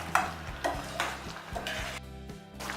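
Garam masala and chopped coriander being stirred into boiling moong dal in a pot, with repeated scraping strokes of the spoon over a steady bubbling simmer, close and moderately loud, no talking.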